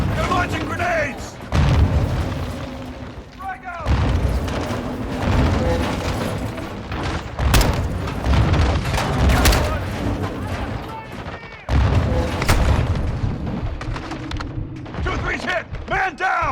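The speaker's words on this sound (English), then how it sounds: "Incoming! Take cover! They're launching grenades!" Explosions from an enemy grenade launcher in a war video game, Veteran difficulty, boom in heavy, repeated bursts amid gunfire and clanking mechanisms, loud and close throughout, while soldiers shout over the chaos.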